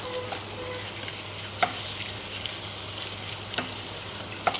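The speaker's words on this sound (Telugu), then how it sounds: "అంతా నీటికి పట్టేలా కలిపేసి మంచిగా 5 మినిట్స్ వేయించుకోవాలి." Egg tomato curry sizzles steadily in a pan for a hotel-style dish, with a few sharp clinks of a spoon stirring it, no voices over the frying.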